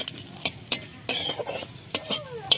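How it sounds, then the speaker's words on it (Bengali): Dried red chilli, cardamom, cloves, cinnamon and cumin crackle in hot oil in a wok, under repeated sharp spatula scrapes and clinks against the metal in an uneven rhythm, close by, with no voices. "কড়াইতে তেল দিয়ে দিয়েছি দিয়ে দেবো একটা শুকনো লঙ্কা আর দিয়ে দেবো এখানে এই যে এলাচ লবঙ্গ দারচিনি আর একটু জিরা"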